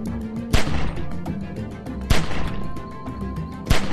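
Gunshots ring out in The Walking Dead 400 Days video game, three loud sharp blasts spaced evenly over a steady background of in-game ambience, with no voices.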